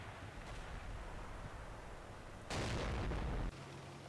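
Mortar carrier shelling in a WWII tactics game around Cheneux: a faint, distant low thump, then a sudden burst of roaring noise that holds for about a second before cutting off sharply.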